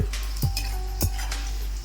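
Peanuts frying in hot oil in a pan, a steady close sizzle with a couple of sharp clinks of a utensil against the pan, no talking.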